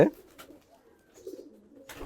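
Soft, low pigeon cooing murmurs through the clip with a few brief rustles, fairly close and quiet, with no talking.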